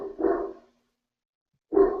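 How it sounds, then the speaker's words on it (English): A dog barks twice, close and fairly loud, with a short bark burst followed by silence and then another bark. "There's a dog."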